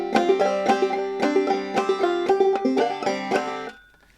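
Banjo in sawmill tuning picks the old-time tune Cluck Old Hen, a bright, close, plucked melody of quick ringing notes that stops after a few seconds, with no talk.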